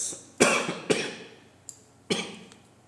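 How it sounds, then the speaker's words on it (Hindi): Three sharp coughs in a row, close and fairly loud, with a small click between the second and third. "खांसी बहुत ज़्यादा हो रही है"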